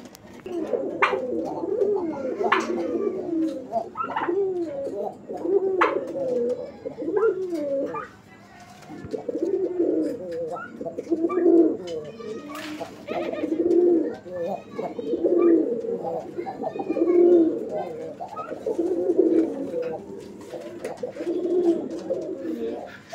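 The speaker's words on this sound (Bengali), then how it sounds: "কবুতরগুলোর সাইজ দেখেন আপনারা, অনেক বড় সাইজের কবুতর" Several large pigeons coo repeatedly in deep, throaty rolling phrases at close range, the rhythmic calls recurring every couple of seconds with occasional wing flutters and brief chirps mixed in.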